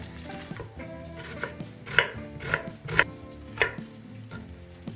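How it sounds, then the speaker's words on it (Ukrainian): A knife finely chops onion on a board, several sharp clicking strikes in an uneven rhythm, close and clear with no talking. "будемо різати дрібненько цибульку"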